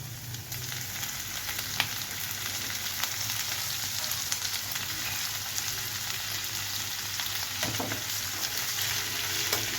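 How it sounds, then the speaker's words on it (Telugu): Round-cut ivy gourd slices fry in a pan with a steady, dense sizzle that runs unbroken throughout, close and moderately loud, with no voices. "ఇవి కొంచెం వేగాలండి."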